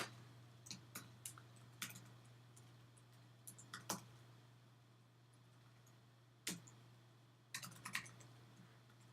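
Code is typed on a computer keyboard in quiet, irregular bursts of soft key clicks over a low steady hum, with no voices.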